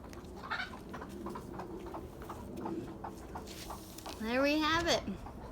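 Chickens cluck and squawk close by in a yard where homemade bird feeders are being hung, with scattered clucks throughout and a louder, rising squawk near the end.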